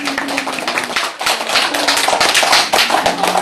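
Applause from a lecture audience on Goguryeo archaeology and Korean mountain fortresses, a dense crowd of clapping hands sustained for a few seconds at steady loudness, with no speech over it.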